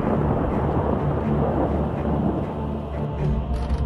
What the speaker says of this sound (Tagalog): kakaibang kidlat ang nasaksihan habang nangangalit ang Fuego Volcano